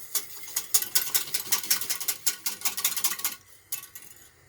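Chocolate being snapped by hand into squares for a gluten- and dairy-free cake, a rapid series of crisp, close cracks and snaps over about three seconds, then a few quieter breaks.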